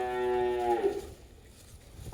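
A single short moo from a heifer calf, close by, fading into quiet background noise.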